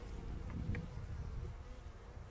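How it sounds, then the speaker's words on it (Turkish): Carniolan honey bees shaken from hives into a bucket make a faint, continuous buzzing drone that stays steady throughout. "kovaya sirkeliyoruz her kovandan arıları"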